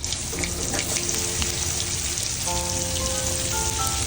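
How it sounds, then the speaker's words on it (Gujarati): Stuffed okra filled with garlic chutney frying in a pan gives a steady, close sizzle and crackle of hot oil throughout, with no voices over it. "જો મિત્રો ભરેલો ભીંડો ફ્રાય થઈ રહ્યો છે"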